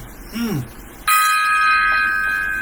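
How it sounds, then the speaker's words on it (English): One metallic gong strike rings out loud and close after a brief voice, its shimmering tones sustaining and slowly decaying on its own. "gong time there"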